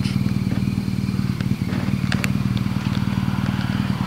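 Motorcycle engine running steadily on a country road ride across the Elbe region, a continuous low throbbing drone with wind rush, a brief dip near the middle, no talk.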